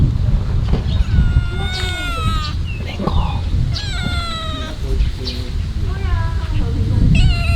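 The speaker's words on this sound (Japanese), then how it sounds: "猫。" A cat meows several times, drawn-out rising and falling cries, over a person talking nearby and some background rumble on a farm in Taiwan.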